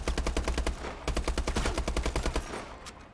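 Blunderbuss firing in Call of Duty Advanced Warfare, heard as a loud, rapid run of gunshot blasts in steady rhythm for about two and a half seconds, then fading out.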